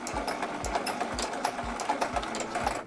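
A sewing machine stitches across a zipper bag, a close, rapid, even mechanical chatter with steady low thumps from the needle, no talking.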